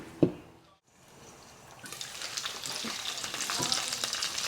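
Pancit guisado ingredients frying until golden brown in a covered pan, a steady close sizzle and bubbling that starts after a short knock and brief pause, with no talking.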